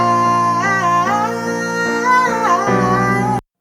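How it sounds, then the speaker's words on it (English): A piano-and-vocal song demo: a sung melody with gliding, sustained notes over piano chords, loud and close, ending abruptly. "So just piano and vocal."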